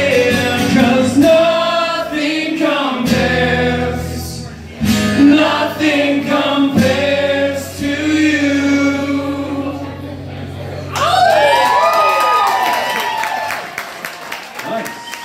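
A live concert crowd sings along in unison like a choir during a cover of a song, many voices blending loud and sustained for most of the stretch, then giving way to cheering and applause near the end.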